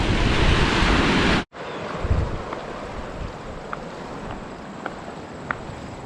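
Loud rushing surf from barrel-shaped breaking waves that cuts off abruptly, followed by wind buffeting the microphone and distant waves with a few faint clicks, heard from a Sea-Doo.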